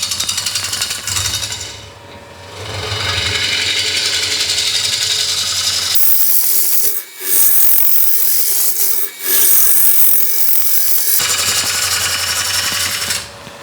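A 1/2 inch swept-back bowl gouge trues the base of a large ash salad bowl blank on a wood lathe, a continuous rough scraping and rumbling cut with a few brief pauses as the tool lifts off.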